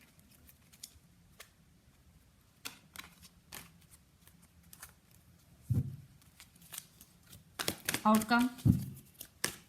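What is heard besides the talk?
tarot cards being shuffled and pulled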